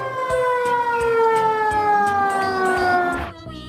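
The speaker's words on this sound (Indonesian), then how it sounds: "Yang ini damkar teman-teman, mobil tangki pemadam kebakaran." A fire engine tanker truck's siren sounds steadily with a loud, wavering electronic wail, then cuts off abruptly near the end.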